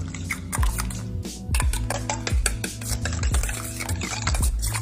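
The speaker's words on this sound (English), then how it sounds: "Then we just whisk that up." Homemade cocktail sauce whisked in a bowl, brisk repeated strokes rattling and tapping against the sides in a quick steady rhythm, close and loud with no voices.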